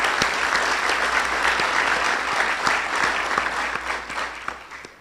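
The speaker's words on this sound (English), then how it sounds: "please give a round of applause for Gaucho's" An audience at a town of Miami Lakes community event applauds, many hands clapping at once in a dense, steady roar that gradually thins toward the end, with a few sharper individual claps standing out.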